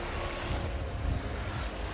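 Sea swell washing onto a beach at sunrise with the tide coming in, a steady broad roar of surf mixed with gusty wind rumbling on the microphone, no voices.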